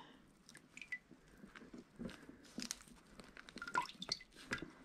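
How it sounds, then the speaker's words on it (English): Wet paper pulp is pressed by hand under a sheet of cereal liner paper to push the water out, giving quiet squishing, dripping and soft wet squelches in irregular bursts close by. "let's push out some of this water."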